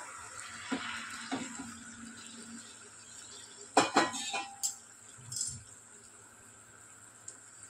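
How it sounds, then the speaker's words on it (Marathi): Kitchen sounds: a few clinks of a utensil against a pot, then a burst of cooked drumsticks and their cooking water splashing into curry, with scraping afterward. "शेवग्याच्या शेंगा ह्या मी शिजवलेल्या पाण्यासोबत टाकते"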